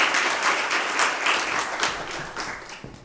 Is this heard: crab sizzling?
no